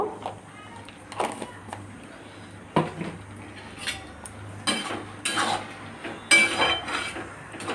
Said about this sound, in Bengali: গরম মশলার গুঁড়োটা দিয়ে একটু নেড়ে নেব